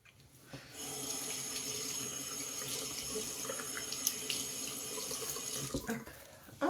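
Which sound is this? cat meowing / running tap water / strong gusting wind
running tap water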